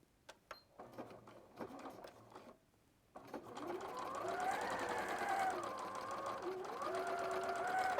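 A sewing machine stitches fabric seams on a dress, starting after a few soft clicks and then running steadily with a close, whirring, rhythmic rattle that shifts in speed.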